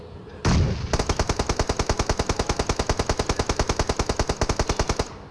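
A loud, rapid burst of machine-gun fire rattles on steadily for several seconds after a brief opening blast, with no voices.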